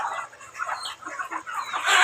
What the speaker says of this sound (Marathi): हे आमचं छोटंसं एक पोल्ट्री फार्म आहे